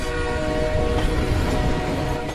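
Train on a railway line in India, heard as a steady, loud rumble of rolling rail cars with horn-like tonal lines running through it throughout, no voices.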